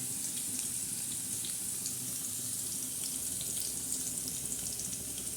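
Cumin seeds and crushed garlic tempering in hot oil in a kadhai, giving a steady, dense hiss and crackle that stays even and close throughout with no voices.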